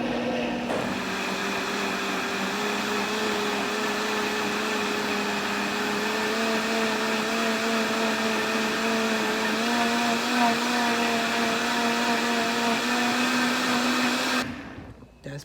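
A countertop blender purees creamy tomato basil soup with a loud, steady motor whine that holds for about fourteen seconds before cutting off abruptly, with no voices.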